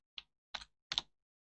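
Three crisp computer keyboard keystrokes, sparse and close, each a sharp click with short gaps, in an otherwise silent room.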